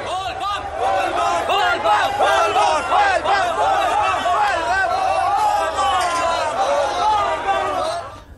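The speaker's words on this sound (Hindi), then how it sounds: "पूरा मंदिर परिसर बोलबम के जयकारों से गूंज रहा है।" Crowd of kanwariya devotees at Ashok Dham temple in Lakhisarai chanting Bol Bam during Sawan, a dense, loud, continuous chorus of voices with rhythmic shouted cries.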